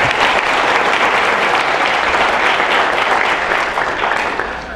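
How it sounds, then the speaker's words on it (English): Dense, loud, steady applause from an audience at a college scholarship award ceremony, sustained across the whole stretch and tapering slightly at the end. "Let's give her another round of applause."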